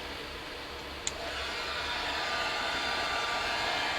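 A hairdryer blows steadily to dry red mica mist spray paint on a plate, holding a continuous loud whooshing roar for several seconds after a brief click at switch-on.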